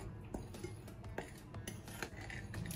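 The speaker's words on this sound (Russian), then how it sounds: "Хорошо перемешиваю." A spoon stirs chocolate chip cookie dough with baking powder and salt in a bowl, making quiet rhythmic scrapes and light clinks against the bowl, faint and close.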